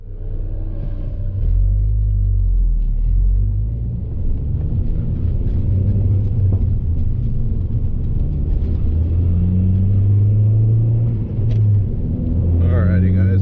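Ford Focus ST with a Mishimoto intake and the airbox lid removed, driving on the road: a loud, steady low engine drone and rumble with shifting pitch as revs change, close and continuous throughout.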